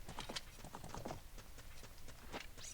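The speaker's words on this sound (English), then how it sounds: "Can we get on that horse?" Horse hooves clip-clopping in a steady patter, with a brief neigh near the end, from the Nintendo 64 Zelda Spaceworld '97 demo played on original hardware, heard alone without music or speech.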